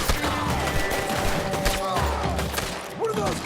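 Gunfire in Red Dead Redemption 2, a dense, sustained fusillade of overlapping shots layered with other game sounds over three and a half seconds.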